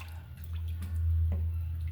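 Potatoes drop into a simmering pilau rice mixture of boiled soup and water, giving a couple of soft wet splashes and drips over a steady low cooking hum.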